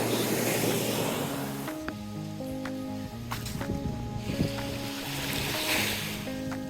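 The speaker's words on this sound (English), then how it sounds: "This is Lanine Beach." Surf washing in at a beach in Lance aux Epines, Grenada, a steady broadband rush that fills the whole clip, with sustained tonal notes layered over it.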